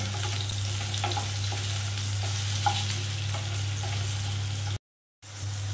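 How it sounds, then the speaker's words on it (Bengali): Chunks of elephant foot yam frying in oil in a pan, a steady close sizzle with occasional stirring scrapes over a low hum, broken by a brief silent gap near the end. "সুন্দর করে ওলটাকে মিনিট 2-3 ধরে ভালো করে এটা ভেজে নেব।"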